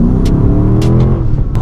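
A Dodge Charger R/T engine with a new exhaust revs steadily up close, a deep throaty drone with a rising intake roar and a few sharp clicks on top.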